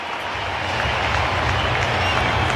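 West Coast Eagles fans roar for a goal at an AFL match against GWS, a dense, loud crowd cheer that swells slightly and holds steady throughout.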